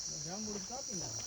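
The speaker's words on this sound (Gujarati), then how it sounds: "જો અહીંયા તમરા અત્યારમાં બોલે છે." Crickets chirp steadily at night on a village farm, a continuous high trill held at a constant level, with soft murmuring voices running underneath.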